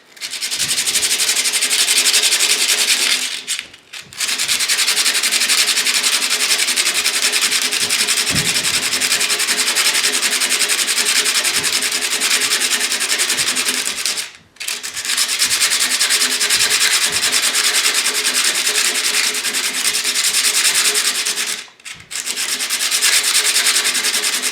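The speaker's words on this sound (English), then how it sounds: "I'm just going to keep grinding away on this crush washer until I can get it timed" A metal crush washer for a muzzle brake being rubbed on coarse 50 grit sandpaper, a loud, steady rasping scrub in long strokes broken by three brief pauses, close and without talk.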